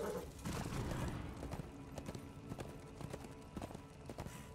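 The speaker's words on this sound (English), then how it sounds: "Alright, let's use our horse." Horse clip-clopping at a gallop in the video game Darksiders 2, steady rapid hoofbeats close and loud over a continuous game background rumble.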